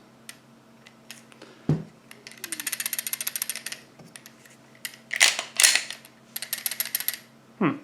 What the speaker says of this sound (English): It's a lot of rattling. However, the gun still works. Is that the plate? Oh, no, that's the plate shaking around.